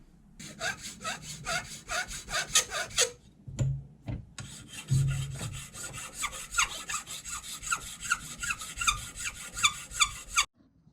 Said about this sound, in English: 23, so we could file that down.